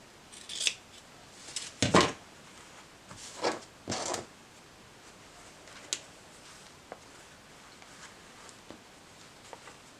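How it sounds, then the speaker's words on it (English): Scissors snip in a few quick, sharp cuts near the start, while fabric is trimmed for a travel bag project, followed by fainter clicks and handling noises in a quiet room. "Where's my scissors?"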